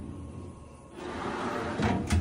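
The utensil drawer of a Matchless grill cabinet opens or closes, giving a faint soft slide and a couple of light knocks against a quiet background.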